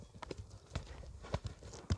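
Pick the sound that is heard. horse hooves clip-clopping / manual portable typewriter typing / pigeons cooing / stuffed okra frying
horse hooves clip-clopping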